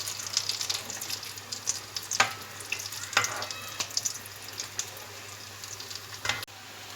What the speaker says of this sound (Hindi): इसको अच्छी तरह से हम दोनों साइडों से बल्कि चारों साइडों से अच्छे से फ्राई करेंगे गोल्डन होने तक।